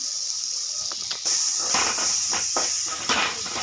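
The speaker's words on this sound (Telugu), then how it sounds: "ఇది కొంచెం ఫ్రై చేసుకోవాలి" Chopped raw mango for mango pulihora fries in a pan, giving a steady hiss that grows louder partway through. A few light clicks of stirring sound close by, and no one speaks.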